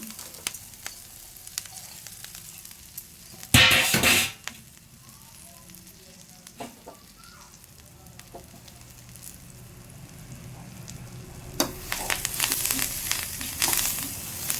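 Curry leaves hit hot oil in a pan for a curry-leaf spice powder, giving a loud, sharp crackling burst, then a quieter simmering sizzle that swells into another crackling burst near the end.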